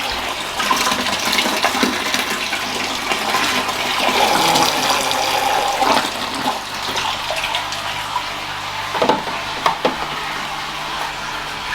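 Water drains from an aquarium tank, a loud continuous rushing and gurgling stream lasting several seconds, with occasional sharper splashes toward the end.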